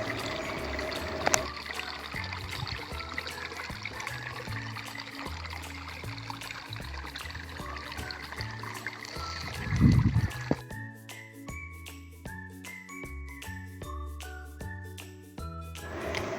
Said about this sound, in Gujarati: આ ધોરિયામાંથી પાણી જઈ રહ્યું